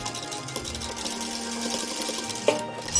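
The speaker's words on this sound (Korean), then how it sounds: "만든 손잡이를 겉감 앞면에 봉제합니다." A sewing machine stitches a fabric handle onto the front of the outer fabric of a lined zipper pouch, running in one steady, close, continuous whir throughout.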